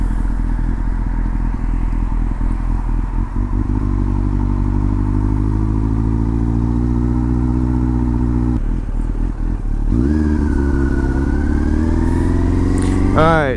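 A new motorcycle rumbles steadily while riding, its engine droning loud and close throughout, then revving and rising in pitch as it accelerates near the end, with someone talking over it.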